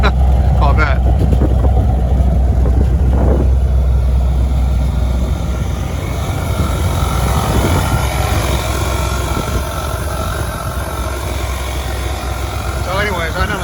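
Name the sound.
1977 Chevrolet Corvette engine running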